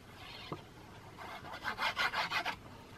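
Tombow adhesive being applied to patterned craft papers for a three-panel concertina card, heard as soft rubbing and rasping strokes, a brief tap near the start and then a quick run of louder, rhythmic rubs close by, with no talking.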